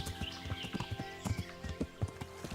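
Hooves of a horse in the video game Kingdom Come: Deliverance clip-clop in a quick, even rhythm, clear and close over a steady background hum.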